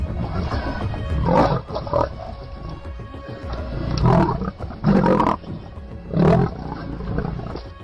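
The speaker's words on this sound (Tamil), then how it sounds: "முதல்ல உருமுற சத்தத்தை கேட்டிருக்கீங்களா?" Deep, rasping growls and roars come from a large monitor lizard in several rough bursts, loud and close, over a constant low rumbling background.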